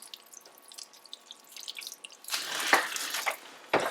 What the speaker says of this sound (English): We got our handy watering can again. Make sure that we're going to drip water all over the place.